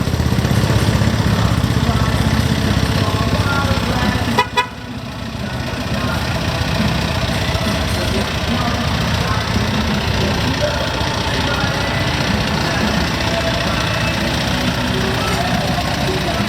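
A homemade Thai farm truck with an 88 hp Isuzu engine runs steadily and loudly up close, a rough, knocking drone that barely changes over the whole stretch.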